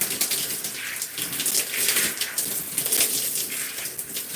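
Running water rinsing shampoo out of gray natural hair, a close continuous splashing patter like a shower stream, with no talking.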